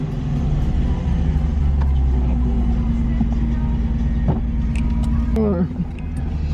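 An Alfa Romeo car drives around the Nürburgring Nordschleife, its engine a loud, steady low rumble heard from inside the cabin, with brief voices and a short shift in tone near the end.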